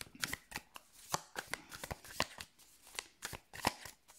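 A tarot card deck being cut and shuffled by hand, a close run of quick riffling bursts and soft slaps that repeat in an uneven rhythm, alone and fairly quiet.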